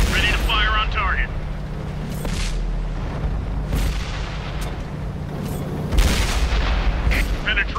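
Tank cannon fire in the VK-36 video game, sharp booming shots at intervals over a steady engine rumble, with game voice callouts spoken in between.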